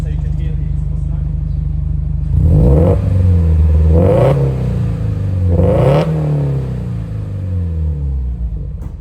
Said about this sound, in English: I'll give it a little rev so you can hear the exhaust note.